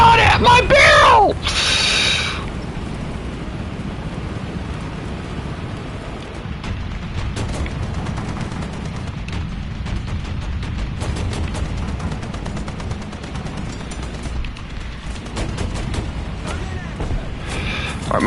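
Gunfire striking a tank in the War Thunder video game: a loud burst of impacts at the start, then sustained rumbling battle noise with scattered shots while someone talks over it.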